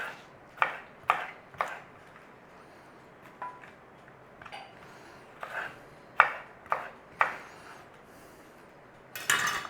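A knife cubes food on a cutting board with irregular sharp chops, single knocks and short clusters separated by quiet gaps, close and moderately loud.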